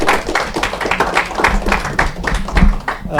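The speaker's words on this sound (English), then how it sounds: "Let's have a round of applause for our two speakers" Audience applause for two speakers at an evening policy talk, a steady patter of many hands clapping close and loud for about three seconds with no talk over it.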